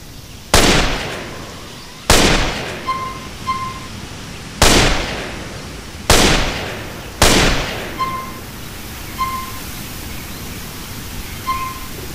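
Rifle gunshots ring out from a modded weapon pack in the video game GTA San Andreas. Five loud, sharp cracks each fade into a short decay, spaced irregularly about one to three seconds apart, with faint electronic beeps between them.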